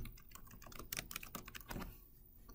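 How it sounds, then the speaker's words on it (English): Someone types a city name on a computer keyboard: a quick, close run of soft key clicks in uneven bursts, then a pause near the end. "Go ahead and type in your city."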